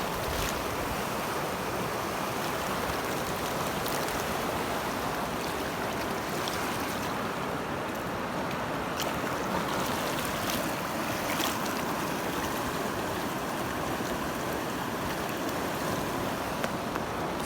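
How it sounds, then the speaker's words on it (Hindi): Rough sea waves surge at the shore in Oman during stormy, flooding weather, a steady loud broadband wash of water lasting throughout with no voices. "समुंदर वाला सीन बना हुआ है यहाँ पे, पानी की ऐसे लहरें, और इतना स्पीड में पानी है ना"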